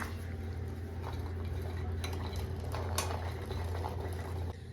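Sweet corn kernels going into a pot of boiling salted water bring soft clinks and stirring knocks of utensil on pot over a low, steady burner hum and bubbling.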